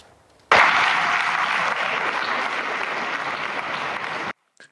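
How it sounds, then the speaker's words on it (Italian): Students and guests in a university great hall in Sicily break into long, loud applause that starts abruptly, holds as a dense steady roar of clapping for about four seconds, then cuts off. "Un lungo applauso alla rappresentanza di studenti iraniani in piedi"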